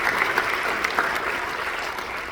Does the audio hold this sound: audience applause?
yes